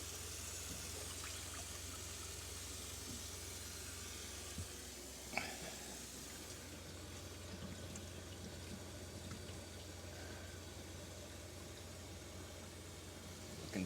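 Water runs steadily out of a camper sink drain during spring dewinterizing, a continuous hiss of flowing and pouring liquid with a few faint clicks along the way.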